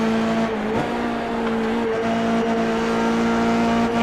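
Race cars roaring steadily along a racetrack drafting section in an IeRC electric racing event, a continuous loud engine drone with a strong sustained tone and no break.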